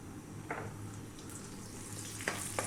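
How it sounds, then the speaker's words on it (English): Cumin seeds, dried red chili and curry leaves dropped into hot oil for a prawn curry, a soft continuous sizzle with a few sharp spits and pops near the start and end. "Let's drop in our cumin seeds and our dried red chili. To that, we're going to add our curry leaves."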